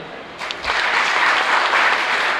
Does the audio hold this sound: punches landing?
no